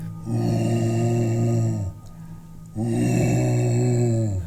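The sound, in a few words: voice imitating a low male groan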